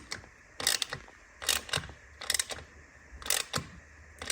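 Screws on an Akrapovic titanium exhaust's carbon sleeve for a BMW R NineT Racer are tightened with a ratcheting tool, four evenly spaced bursts of close clicking, no talk.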